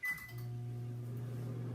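Microwave oven running to soften an ingredient for pimento cheese spread: a short door clunk, then a steady low electrical hum that continues quietly and evenly.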